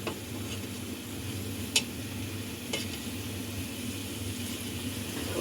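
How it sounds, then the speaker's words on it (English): Chicken meatballs fry in a pan with a low, steady sizzle and a soft background hum, plus a couple of faint clicks, quiet and with no speech. "we want to go ahead and fry these until they're at least mostly cooked"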